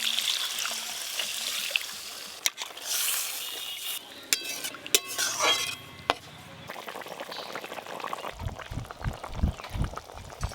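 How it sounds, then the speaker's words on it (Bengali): Water poured into a curry of spiced masala with ground coriander leaves to make gravy, a trickling pour with clinks and stirring in the pot, followed by low bubbling, close and alone. "এবার গ্রেভির জন্য জল দিয়ে দেব।"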